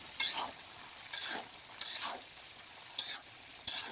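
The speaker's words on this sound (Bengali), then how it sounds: "এখন খুব ভালোভাবে তেলের সাথে বড়িগুলোকে আমি ভেজে নিব।" Dried jujubes fried in oil with spices for a sweet-sour pickle, a low steady sizzle broken by five or six quick scraping stirs of a spatula against the pan, close and without speech.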